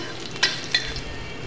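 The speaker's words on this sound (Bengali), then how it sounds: "রসুনটা একটু কায়দা করে ভাজে নেবো" Chopped garlic fries in hot oil with a steady, close sizzle, broken by two sharp clinks of a spatula stirring against the pan.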